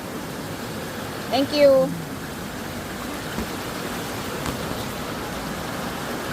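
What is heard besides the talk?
strong current of a waterfall stream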